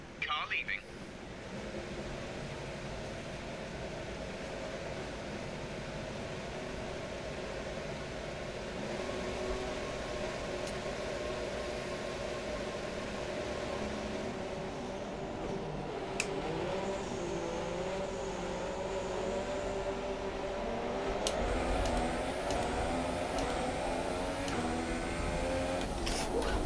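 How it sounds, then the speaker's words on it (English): Formula 1 cars in F1 2017 at the Hungary Grand Prix, engines droning steadily at a distance with rising whines of cars pulling away and building in pitch toward the end. "I can hear engines running now"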